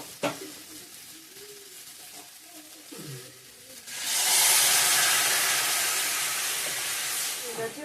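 Water poured into a sizzling pan of rohu fish curry with potato and pointed gourd brings a sudden loud, steady hiss that rushes in after a few seconds of faint, quiet frying and holds to the end.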